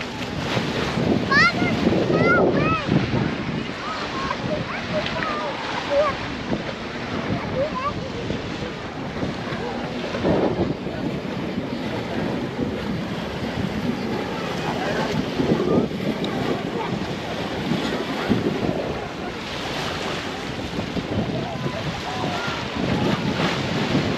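Sea waves washing in and wind buffeting the microphone at a beach where children are swimming, a continuous rushing wash with gusts, while voices talk and call out nearby.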